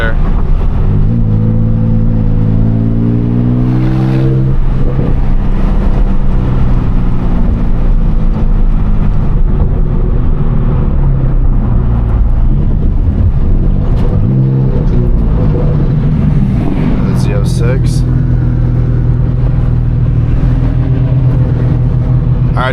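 A 1,000 hp Audi R8 Turbo S with an F1 exhaust, loud and close, a sustained engine roar whose pitch climbs and falls as it revs, with a sharper burst near the end.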